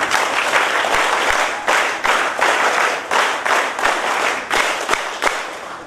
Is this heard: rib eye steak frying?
no